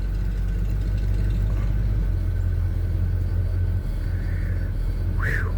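A 1978 GMC C15 pickup truck engine idles steadily close by, a deep, even low rumble with a slight shift in pitch partway through, and no one speaking.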